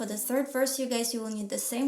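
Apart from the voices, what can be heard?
No everyday noise stands out behind the speech.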